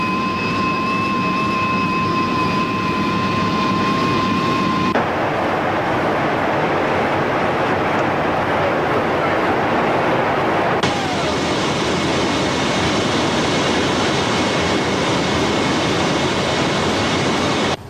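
The engines of a big plane flying to Kemerovo drone in a loud, steady cabin roar, with a tonal whine that drops away partway through and a hiss that swells back near the end.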